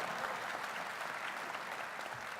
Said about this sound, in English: You can clap again if you like